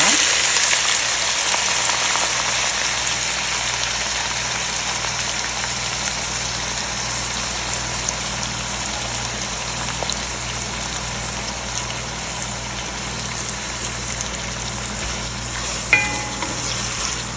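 Onions fry in hot oil with a loud, unbroken sizzle and crackle that holds steady throughout, topped by one brief knock near the end.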